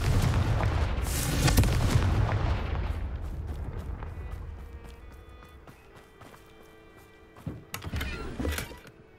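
A Confringo fire-spell explosion in Hogwarts Legacy bursts loudly at the start and rumbles away over several seconds, followed later by a smaller cluster of impacts.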